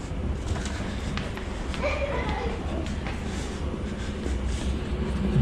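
A London Underground Tube train rumbles steadily with a constant low roar and rattling, some muffled voices mixed into the noise.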